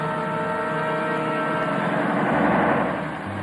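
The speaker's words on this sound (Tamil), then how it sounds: "காரை நேர ஓட்டு." A car engine running while driving in a Tamil film, a steady, close mechanical drone with a layered tonal hum that swells slightly before easing off near the end, with no one speaking.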